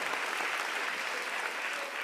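An audience applauds at an Indonesian stand-up comedy show, a steady, even wash of many hands clapping at once, close and consistent throughout.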